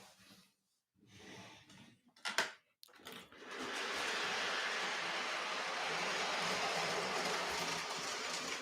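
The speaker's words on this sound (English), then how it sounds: "Now throw some trains on the tracks." Model trains set running on a layout: after a few soft knocks and bumps, a steady close rolling rumble and rattle starts and carries on to the end.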